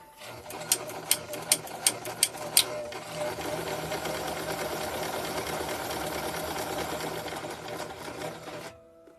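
A sewing machine stitches a buttonhole in a steady, fast mechanical whir that runs for several seconds, preceded by a few sharp clicks and stopping abruptly near the end.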